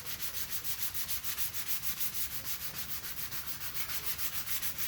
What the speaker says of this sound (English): So if you find any little bumps that need to be sanded, you're going to use 400 grit sandpaper.